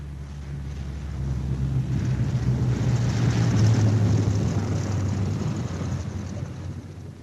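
B-17 Flying Fortress bombers arriving back at a wartime airfield, a distant droning roar of piston engines and propellers that swells and then slowly recedes.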